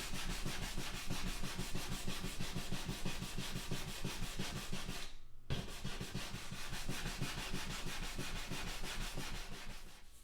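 Wood being sanded for a revolver wall display, a steady, fast back-and-forth rasping rub that runs nearly the whole time with one brief pause midway, close and fairly quiet, no voices.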